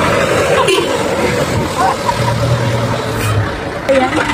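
Jeepneys and other vehicles rumble and idle in busy street traffic in Tagaytay City, with a steady engine drone, passing road noise and a crowd of voices chattering nearby.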